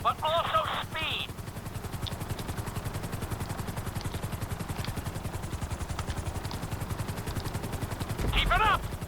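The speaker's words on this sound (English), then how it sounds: "Let's go on a short tour of the city, and we'll see how well you handle the chopper" A helicopter flies in GTA 5, its rotor beating in a steady, rapid thudding pulse for the whole stretch, loud and near, while a voice speaks briefly at the start and again at the end.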